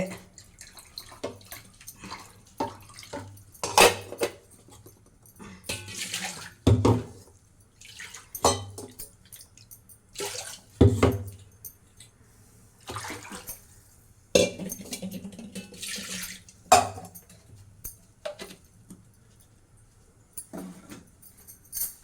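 Tamarind and tomato water dissolved together is poured into a pot of simmering rasam, giving intermittent splashing and trickling bursts of liquid with brief pauses, fairly close, with no talking.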